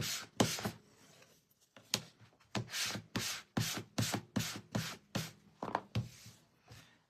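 Rhythmic hand sanding on a laser-cut wooden sign, about a dozen back-and-forth rasping strokes at a steady pace, close and alone.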